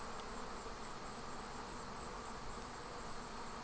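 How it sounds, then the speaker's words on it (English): A dense, steady hum of many honeybees buzzing around an expanded hive, continuous and even throughout, with no voices. "As you can see, there's a huge amount of bees here"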